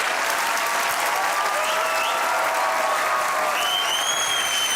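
A studio audience on a comedy talk show fills the room with dense, continuous applause, with shrill whistles rising over the steady roar of clapping.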